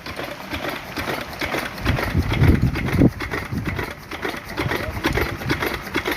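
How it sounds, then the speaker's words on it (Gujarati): A small well pump engine chugs steadily with a rapid mechanical rhythm, running continuously at close range. "એન્જિન હાલે છે કૂવાનું"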